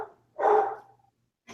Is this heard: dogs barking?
yes